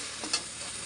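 Rice frying in a pan and being stirred, a steady sizzling hiss with one brief scraping stir partway through, close and alone.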